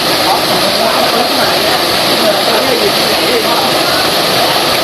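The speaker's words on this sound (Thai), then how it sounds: "นั่นคือน้ำตก" The first tier of the nine-tier waterfall at Suan Phueng, a loud, steady rush of falling water filling the whole clip with a constant broadband hiss and no pauses.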